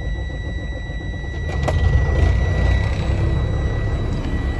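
A diesel pickup truck with 104,000 miles starts after its glow plugs warm, cranking briefly and then catching into a steady, rumbling idle up close.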